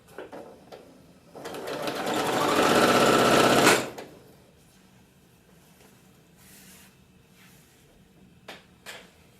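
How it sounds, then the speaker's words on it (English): A sewing machine chain-piecing quilt squares runs in one loud, steady burst of a couple of seconds, then stops, leaving quiet handling noises and soft clicks. "So I've sewn all my pieces together"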